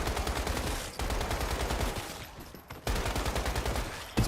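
Rapid bursts of SMG fire in the survival shooter Once Human, loud and close, in two long strings with a brief pause between them and a short burst at the end.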